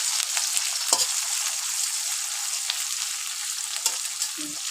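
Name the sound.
stir-frying onion, chili and bay leaf in a pan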